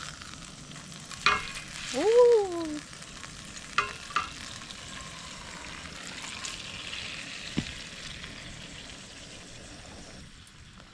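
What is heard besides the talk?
food sizzling in a pan over a campfire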